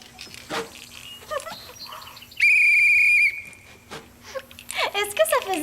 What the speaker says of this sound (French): J'essaie le sifflet.